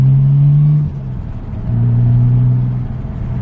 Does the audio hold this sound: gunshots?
no